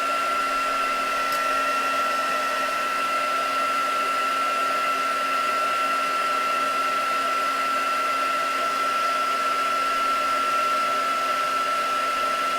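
A heat tool blowing steadily to dry paint for craft work, a constant loud whirring drone with a high whine, unchanging for the whole stretch and with no talk.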